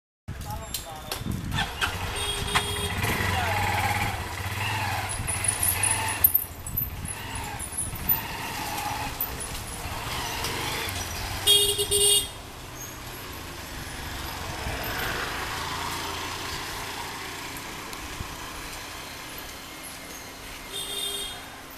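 A motorcycle engine starts and keeps running during a trial ride, its rough mechanical drone carrying on beneath people talking nearby.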